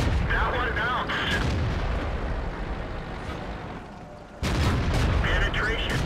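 Artillery and tank gunfire in the World of Tanks video game, continuous heavy booming and rumbling with a sudden louder blast near the end, loud and dense throughout.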